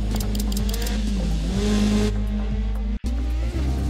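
A rally car engine drones steadily and loudly as the car drives forward on a punctured tire in Dirt Rally 2.0, with slight rises in pitch and a brief dropout near the end.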